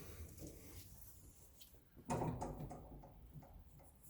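Quiet rustling, then a single solid clunk as an underbody storage compartment door on a 2001 Freightliner bus is unlatched and swung open, followed by faint rattles.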